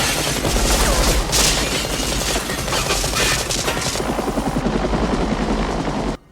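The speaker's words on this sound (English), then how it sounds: "the pilot they had bribed arrived in the helicopter and opened fire through the window" A helicopter arrives in a movie scene and its occupants open fire through a window. Loud, dense rotor thump runs under rapid, sustained automatic gunfire that keeps going with heavy booms until it cuts off abruptly.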